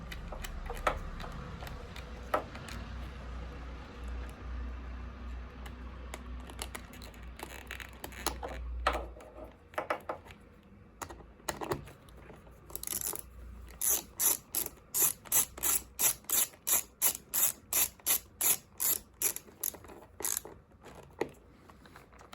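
A ratchet tightens the battery terminal bolts on a Triumph Trident 660, starting with fumbling metallic handling, then a long even series of crisp clicking strokes, close and clear.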